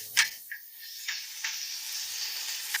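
Shrimp hitting a hot pan of oil with golden ginger, a quiet sizzle punctuated by a few sharp crackling bursts as pieces drop in, with no talking.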